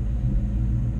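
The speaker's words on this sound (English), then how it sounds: "So I've got the car parked here in the sun running," A car parked in the sun, its engine idling at about 750 RPM, a steady low rumble with a smooth, even pulse and nothing else over it.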